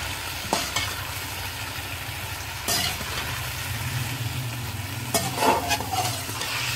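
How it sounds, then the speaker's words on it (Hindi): Potatoes frying in a pan with turmeric, ginger garlic paste and salt, a continuous sizzle broken by a few sharp scraping stirs spread across the stretch. "अदरक लहसुन का पेस्ट ऐड कर देंगे और 1/2 टीस्पून नमक ऐड करके अच्छी तरह से इसकी भुनाई कर लेंगे।"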